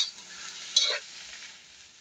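Chicken pieces go into a pot of carrots for Kapampangan afritada and are stirred, giving a soft sizzle and scraping swirl with a brief louder clatter partway through, close and alone.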